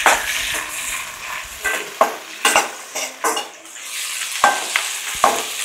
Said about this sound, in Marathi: त्यानंतर आपल्याला ह्याच्यात कांदा टाकायचा आहे आणि कांदा पण आपल्याला चांगलासा नरम करून घ्यायचा आहे।